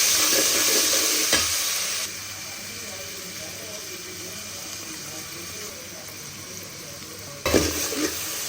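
Spices stir-fried in a pan for a curry make a continuous close hiss and sizzle, with stirring scrapes throughout and brief louder bursts near the start and the end.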